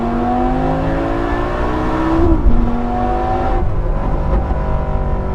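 A Lamborghini Gallardo Nera engine pulls hard from inside the car, a loud sustained drone rising in pitch, briefly dipping at a gear change around the middle, then climbing again at speed.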